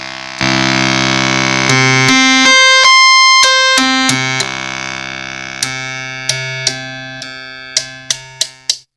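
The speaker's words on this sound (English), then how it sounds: "So you can hear all the wave shapes are correct now." A loud, bright Minimoog Model D synthesizer tone that shifts through several buzzy oscillator wave shapes, then short plucked stabs repeat at a quickening pace, with no voices.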